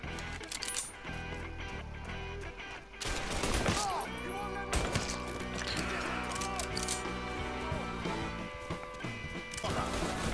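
Gunfire in the crime game Mafia 3: loud shots burst out repeatedly amid clattering impacts and a dense mix of game sound, with a voice talking at times.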